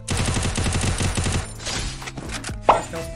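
Rapid bursts of gunfire in the mobile battle royale game Free Fire, a fast rhythmic volley for about a second and a half followed by scattered shots and one sharp louder crack, loud and up front with no talk.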